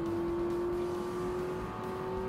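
A race car engine held at full throttle in Forza Motorsport drones as a steady high-pitched whine, constant and moderately faint with no talking.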